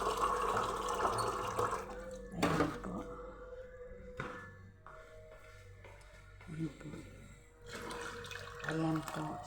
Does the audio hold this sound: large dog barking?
no